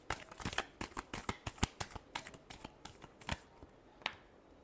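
Tarot cards are given a final shuffle, producing a rapid series of crisp, close riffling snaps and flicks that thin out toward the end, with no talking.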